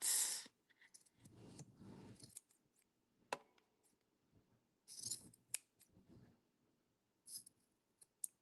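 Scissors snip through yarn a few times, sharp close cuts separated by pauses, with soft rustling and handling noise in between.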